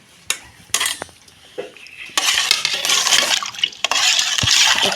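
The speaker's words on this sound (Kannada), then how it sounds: "ನೋಡಿರಿ ಮಿಕ್ಸ್ ಮಾಡಾಕತ್ತೀನಿ" A spoon mixes fruit custard with kiwi and apple in a bowl, opening with a few sharp clinks before a close, continuous wet stirring and scraping against the bowl.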